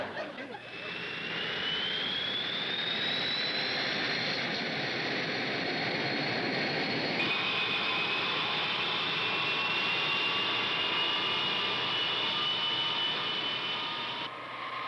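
A jet airliner roars in a broadcast commercial for Eastern Airlines. A loud, continuous turbine whine and rush slowly rises in pitch, then settles into a sustained steady roar with no talk over it.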